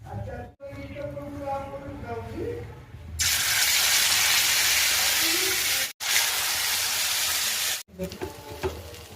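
A spice paste of nigella seeds, raw banana peel, garlic and chili goes into hot oil in a kadai and sizzles loudly and steadily, broken by a few brief cut-outs. Speech and clatter come before it.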